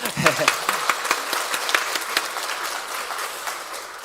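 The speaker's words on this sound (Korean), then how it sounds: "우리 박수로 환영하겠습니다" A church congregation claps to welcome new members during a Sunday morning service, with sharp individual claps standing out at first before settling into lighter, scattered applause.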